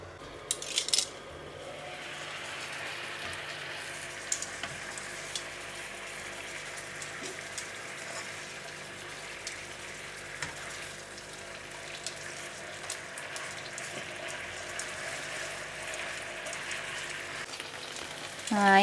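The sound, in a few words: steak frying in a pan with Del Monte BBQ sauce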